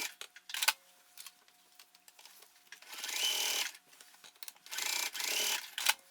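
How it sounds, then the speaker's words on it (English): A sewing machine bastes the bottom strap connectors of a backpack in place: close, whirring bursts of stitching, with short starts and stops early on and two longer steady runs later. "Here I'm basting the bottom strap connectors in place."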